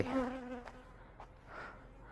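Honeybees hum faintly at the hive during a feeding check, a soft, wavering buzz close by that rises briefly and then settles into a low continuous drone.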